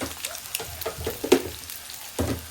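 Curry leaves hitting a pan where eggs and taro roots are frying, a steady sizzle with sharper crackling spits and pops scattered through it, heard close.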